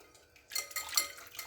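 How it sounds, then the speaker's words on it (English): A utensil clinks and scrapes briskly against a bowl while beating eggs and egg whites for dairy-free keto bagel dough, starting after a short quiet lead-in and staying close and fairly faint. "put it in, beat it for a couple minutes, whisk it"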